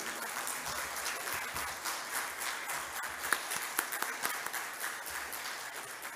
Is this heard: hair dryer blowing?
no